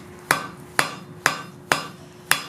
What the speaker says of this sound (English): I'm going to begin here with drawing a taper, and I'm going to be doing this on both ends.